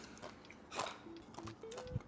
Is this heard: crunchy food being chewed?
yes